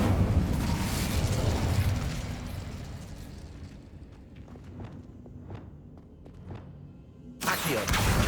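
Bombarda and Incendio spells exploding in Hogwarts Legacy, with a roaring blast that fades into a run of sharp popping bursts and footsteps before another loud blast at the end.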